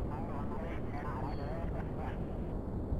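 A rocket engine throttling up in Kerbal Space Program gives a steady, dense roar that holds unbroken for the whole stretch while someone talks over it.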